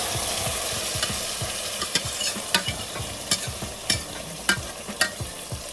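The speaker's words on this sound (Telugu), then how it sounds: "తాలింపు కాలిపోయింది, తాలింపు వేగిపోతుంది." Tempering spices sizzling and crackling in hot oil for a spicy lentil dish, a steady close frying hiss punctuated by sharp pops and spoon-stirring scrapes in an irregular rhythm, with no one talking.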